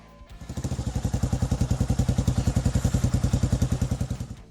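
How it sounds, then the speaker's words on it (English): A Kawasaki KLR650 motorcycle engine runs close by, a steady train of rapid thumping exhaust pulses that swells in, holds for several seconds, then fades, with no other sounds. "Kawasaki KLR650"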